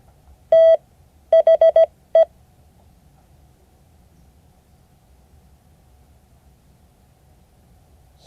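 Steady Morse code tones played for a class exercise: a single long beep, then a quick run of four short beeps and one more short beep, clean and close over a quiet background, followed by several seconds of near silence.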